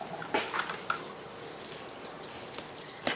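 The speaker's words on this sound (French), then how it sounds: "À ça, je vais ajouter de l'eau." Water is poured in for a green smoothie for two, a soft, faint liquid trickle with a few small splashes and drips, steady and close, with no voices.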